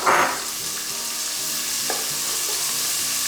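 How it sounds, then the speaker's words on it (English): Onions sizzle in butter and bacon fat at the start of a New England clam chowder, a steady close frying hiss with a brief louder burst of stirring at the outset and a few soft utensil knocks. "To start, throw a little onion in there."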